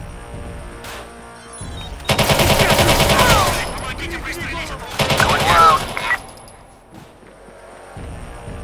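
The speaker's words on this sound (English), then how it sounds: "I wanna start popping shots off at everyone" Automatic gunfire bursts rattle through a chaotic firefight in the video game Watch Dogs 2, two loud dense volleys separated by a brief lull, with a voice talking underneath.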